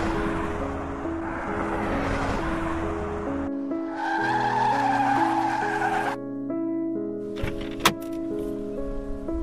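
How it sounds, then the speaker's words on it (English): A car takes off fast with a rising engine roar and shrill squealing, skidding tires, mixed with sustained tonal sounds and a sharp brief burst near the end. "I drove off as fast as I could get to the park."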